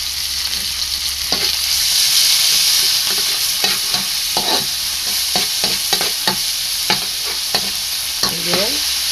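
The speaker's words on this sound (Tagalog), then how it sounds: "Igisa natin yung bagoong. Bagoong isda." Fish bagoong sautéing in a pan, a loud steady sizzle and hiss up close, with repeated scraping and tapping of a spatula stirring through it at an irregular pace.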